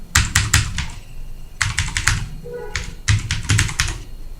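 Clicky computer keyboard keys are typed in three quick bursts of rapid strokes with short pauses between them, close and crisp, with no talking, as a web address goes into a browser setting.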